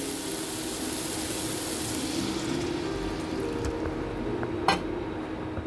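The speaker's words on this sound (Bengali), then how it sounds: "এবার আমি জলটা দিয়ে দেবো।" Water poured into a pan of simmering papad curry gives a steady liquid rush and hiss lasting several seconds, with a small clink near the end.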